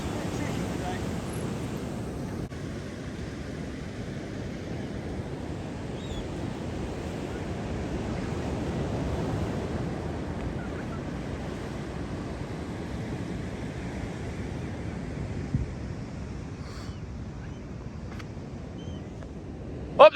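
Waves break steadily on the beach at Saltburn, a broad continuous wash of surf with some wind rumble, running evenly throughout, with a brief sharp knock right at the end.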